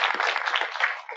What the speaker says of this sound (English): we want to go ahead and give Brooke some applause